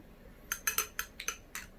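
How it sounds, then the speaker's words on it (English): A spoon stirs an old fashioned cocktail in a glass, giving a quick run of about eight bright, close clinks against the rim over a quiet background. "give everything a bit of a stir"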